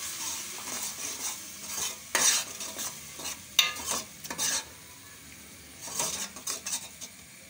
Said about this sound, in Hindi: अब हम इसमें टमाटो प्यूरी ऐड कर देंगे और इसे भी पकाएंगे इस तरीके से।